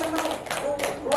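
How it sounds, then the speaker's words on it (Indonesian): A few quick hand claps ring out for a teacher, Bu Maryam, short and scattered over about a second, with a voice talking at the same time. "Boleh tepuk tangan dulu buat Bu Maryam luar biasa."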